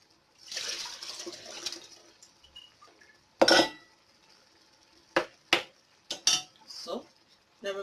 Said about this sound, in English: Going to stir them into it and mix them together thoroughly.